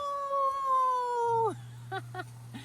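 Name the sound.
person imitating a wolf howl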